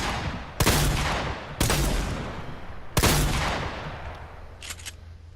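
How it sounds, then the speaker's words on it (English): Heavy shotgun fired in Fortnite, three loud sharp blasts about a second apart, each with a short echoing tail, then a faint clatter. "Now the heavy shotgun"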